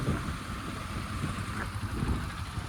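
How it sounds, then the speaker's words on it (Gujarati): Light rain falls at a diesel pump on a road, heard as a faint, even hiss mixed with low rumbling wind or engine noise, with no speech. "વરસાદ છે ભાઈ ચાલુ ઝીણો ઝીણો"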